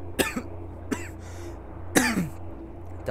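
Coughing and throat clearing from a man with a cold, a few separate bursts over about three seconds, close and fairly loud above a low steady truck-cab hum.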